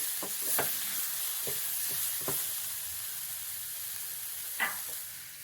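Ingredients for a sweet and spicy leaf puttu sauté in a pan over a low flame, a steady hissing sizzle with a handful of soft, scattered stirring knocks and no talking.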